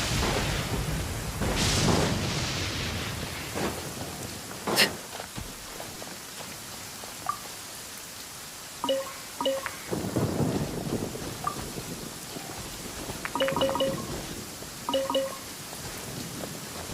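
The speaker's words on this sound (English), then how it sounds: "What's a little thunder when even lightning wouldn't dare strike our path?" Thunderstorm ambience in the Genshin Impact video game, with broad rumbling thunder rolls and a sharp crack standing out against a steady rain wash, alongside scattered brief tonal chimes from the game.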